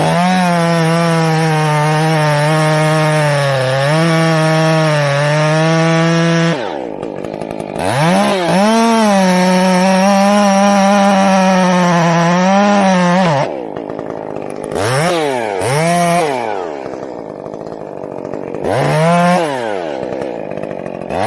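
A Stihl chainsaw cuts through a tree in winter, loud and close, its engine whining high under load with the pitch sagging and rising as it bites, broken by brief pauses and renewed cuts.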